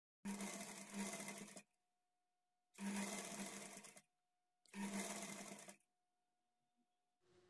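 A sewing machine runs in three separate bursts of about one to one and a half seconds each, separated by short pauses, while stitching the shoulder seam of a blouse.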